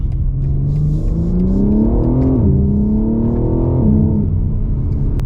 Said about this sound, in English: when the turbos do spool up, I mean, the power is unstoppable